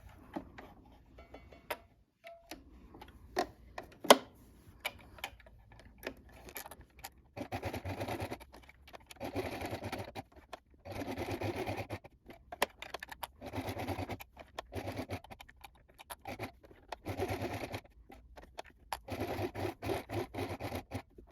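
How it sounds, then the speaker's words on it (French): A sewing machine runs a straight stitch with a universal size 70 needle, sounding in repeated short bursts of rapid mechanical whirring separated by quiet pauses and small handling clicks, close and fairly faint, with no talk. "vous allez coudre à 2 mm du bord"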